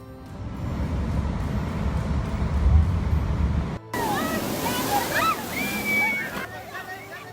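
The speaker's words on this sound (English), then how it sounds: "Southwest Missouri was suddenly engulfed in flash floods after a heavy rainstorm." Raging flash floodwaters after a heavy rainstorm in Southwest Missouri, a loud continuous rushing roar that cuts out briefly, then returns brighter with splashing and sloshing over the steady wash.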